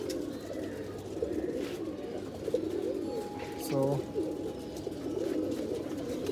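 Giribaz pigeons coo in a low, steady murmur throughout, close and continuous, with a person speaking briefly over them.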